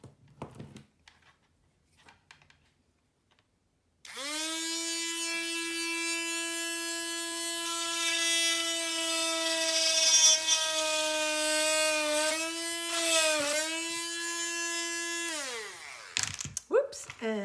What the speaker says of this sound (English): Just drill a hole in it.